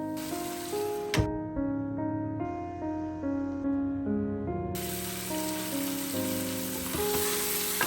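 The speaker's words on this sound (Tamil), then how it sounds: "மிக்ஸ் சிக்கன் தான் சேர்த்திக்கிறேன்." About 500 grams of mixed chicken pieces fry in a pot for chicken mandi, giving a steady, soft hiss that sits under louder tuneful music throughout.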